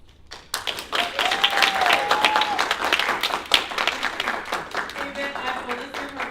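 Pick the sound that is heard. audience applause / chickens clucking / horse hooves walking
audience applause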